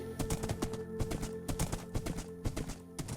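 Horse hooves clip-clop in the Minecraft video game, a quick, irregular run of hollow clops that is close and steady throughout, with no talk over it.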